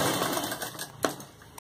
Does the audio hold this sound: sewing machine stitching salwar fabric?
yes